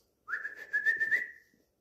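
A person whistles a short wavering note with a few quick pulses, close and clear, in otherwise quiet surroundings.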